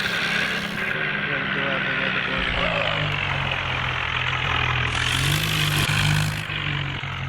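A Swaraj tractor hauling a trolley runs with a loud, steady engine drone throughout. Its low rumble shifts slightly in pitch partway through.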